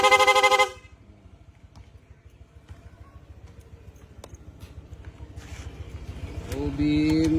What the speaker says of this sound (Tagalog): Para mag-activate po yung rapid horn,